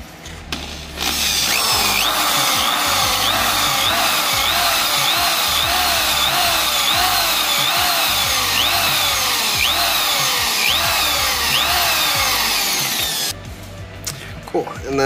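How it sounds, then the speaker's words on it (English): A power drill bores out a stripped set screw on a BMW E30 brake, its loud, steady grinding whine running continuously for about twelve seconds, with a repeating pitch wobble, before cutting off near the end. "So we're going to drill this hole out."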